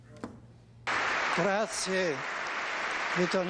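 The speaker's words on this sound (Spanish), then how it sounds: "En el interminable aplauso de toda la Basílica de San Pedro, donde Benedicto XVI celebró excepcionalmente la misa de miércoles de ceniza" Sustained applause fills St. Peter's Basilica for Pope Benedict XVI at an Ash Wednesday Mass, a loud, reverberant wash of clapping that starts abruptly and continues under a voice.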